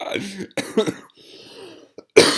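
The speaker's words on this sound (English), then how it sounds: "every time I laugh, I actually cough" A sick person with a bad cough lets out several harsh, close coughs in separate bursts, with a quieter rasping stretch between them and one final sharp cough at the end.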